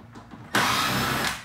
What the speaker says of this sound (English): I'm going to go ahead and remove the temporary tech screw that we put at the bottom